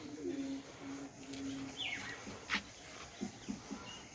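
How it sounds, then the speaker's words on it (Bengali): A pigeon coos softly in a few low, drawn-out notes, followed by light rustling and small knocks. "সুন্দর একটা কবুতর"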